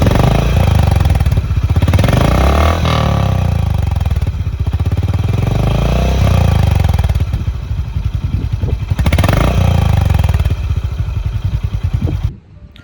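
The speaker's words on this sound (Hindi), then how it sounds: "देखिए अब थोड़ा थोड़ा रैप करेंगे तो हल्का हल्का, देखिए फिर ऐसे साउंड" A 2022 Honda H'ness DLX Pro motorcycle, blue, revs up from idle in repeated light throttle blips. The exhaust note is loud and close, rising and falling with a throbbing, uneven rumble throughout.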